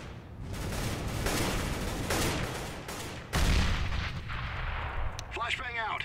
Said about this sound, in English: Decoys out.